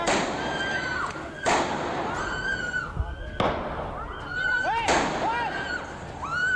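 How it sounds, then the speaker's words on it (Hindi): Four rounds of gunshots go off inside the Delhi Saket court complex, heard as several sharp, loud bangs spaced a second or two apart, mixed with wavering tones and voices. "दिल्ली का साकेत कोर्ट गोलियों की तड़तड़ाहट से दहल उठा।"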